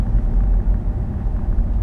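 Inside a moving VW e-Golf electric car, a steady low rumble of wind and tyre roar fills the cabin, loud and even throughout, with no voices.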